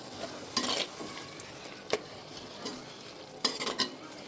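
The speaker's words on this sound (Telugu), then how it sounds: "ఈ లోపుగా గోంగూర అది ఫ్రై అవుతుంది" Gongura leaves frying in a pan for a goat tripe curry, a soft sizzle broken by several sharp clattering stirs of a spoon against the pan, with no voices.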